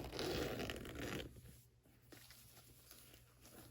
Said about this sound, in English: Comes with the zipper as well.